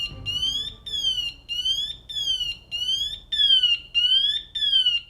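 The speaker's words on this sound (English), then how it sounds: "these devices put out a graduated chirping sound" A firefighter's personal alarm device emits repeated rising-and-falling electronic chirps in a steady rhythm, about eight bursts in five seconds, loud and clear with no talking over it.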